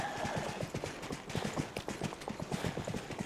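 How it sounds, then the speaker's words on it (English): A horse's hooves clip-clop steadily in Dreamlight Valley, a quick, even trotting rhythm close up over a busy background of game music and ambience. "Let's go and get on a horse just to make it a bit quicker."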